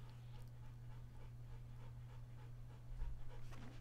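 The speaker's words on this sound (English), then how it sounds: "he's panting really heavily because he hates the thunder" A dog frightened by thunder pants heavily and steadily, quick rhythmic breaths close to the microphone over a constant low electrical hum.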